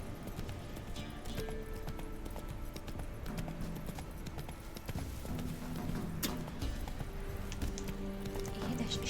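Horse hooves clop steadily in The Witcher 3 video game, a loud, continuous rhythmic trot close up, with game music and ambient sound underneath throughout.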